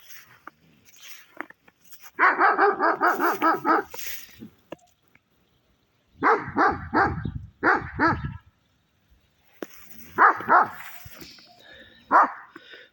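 A dog barks in quick bursts of repeated, rapid barks separated by short pauses, fairly close and loud against quiet surroundings.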